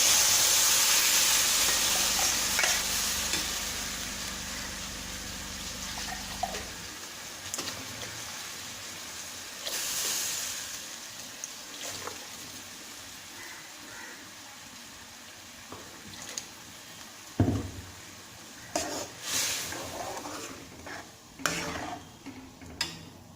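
Steady sizzling hiss of ground paste frying in a hot pan with onions for tomato kurma, giving way to scattered clinks and scrapes of stirring, with no one speaking.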